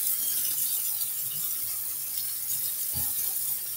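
Water runs from a tap while hair is wetted, a steady close rushing hiss with a soft thump near the end, no talking.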